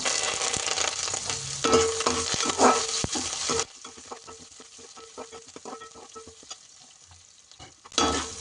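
Curry leaves, green chillies and chopped onions fry in a pan for poha upma, giving a loud sizzle with scraping stirs, then a quieter stretch of soft crackles and taps before the sizzle surges back.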